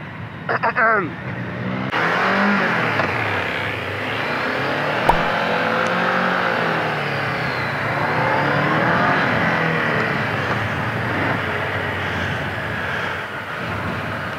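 A Honda CB 500 motorcycle rides along a road, its engine droning steadily with rising and falling revs through gear changes, close and loud, with a rider talking over it.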